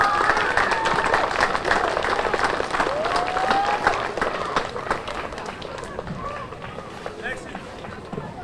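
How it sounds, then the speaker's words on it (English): A crowd applauds at a little league opening day ceremony outdoors, the clapping steady and fairly loud before slowly tapering, with voices talking over it. "let's give Jeff a round of applause"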